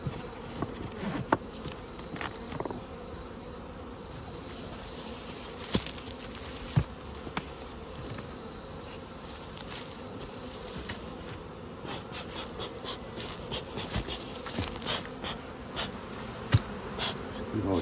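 Honeybees from Crossmaglen hives in November swarm in a dense, constant buzz while the hives are shifted, with a few sharper bumps and knocks from the handling.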